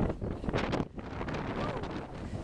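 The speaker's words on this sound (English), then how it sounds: "Pretty windy here today." Strong wind buffets the microphone in loud, rumbling gusts, with faint voices barely audible beneath it.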